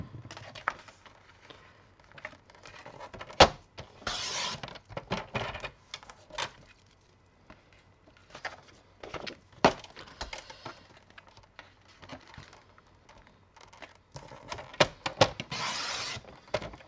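Paper being cut for an autumn-themed scrapbook album: scattered sharp clicks, snips and brief rasping cuts at uneven intervals, close and fairly quiet, with pauses between bursts.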